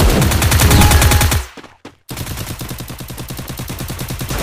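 Rapid bursts of automatic gunfire from a Free Fire battle-royale match, loud and close, with a brief silent gap before the rattling volley resumes in a steady rhythm.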